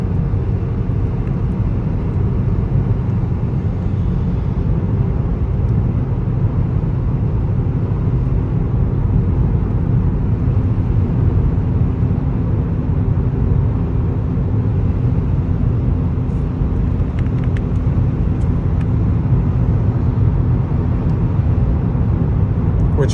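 A car fitted with a TCR muffler and downpipe drones steadily at highway cruising speed, a constant loud low hum and road roar that runs unbroken with no talking.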